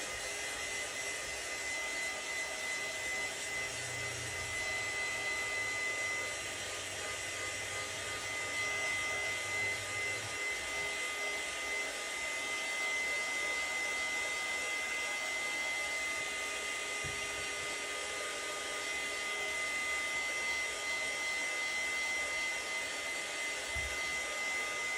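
A handheld heat tool blows steadily across craft paper for decoupage and collage tags, a constant close whooshing roar with a faint high whine, similar to a hair dryer, running without pause.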